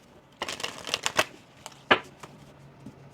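Oracle cards shuffled in a few short, crisp bursts of card slaps, close up, followed by a quiet pause with a faint low hum.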